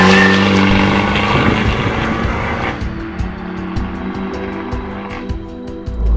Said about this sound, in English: this really raspy and awesome sounding Akrapovic exhaust